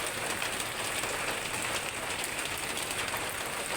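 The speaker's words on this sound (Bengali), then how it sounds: "এরকম সারাদিন সারা রাত টানা বৃষ্টি।" Continuous heavy rain pours down under a dark, heavily clouded sky, a steady dense hiss of drops on surfaces that stays loud and unbroken throughout, with no voices.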